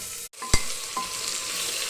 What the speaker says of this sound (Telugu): బెండకాయలు బాగా మగ్గేంత వరకు వేయించాలి.